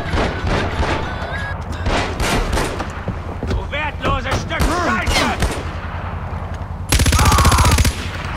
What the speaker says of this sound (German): Man kann doch nicht einfach hier auf Leute schießen.